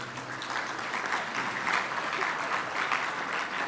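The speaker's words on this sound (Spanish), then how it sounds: "Recibámoslo con un caluroso aplauso" Warm audience applause welcomes a speaker at a Bolivian tax law conference, a steady dense wash of many hands clapping at even strength, with no talk over it.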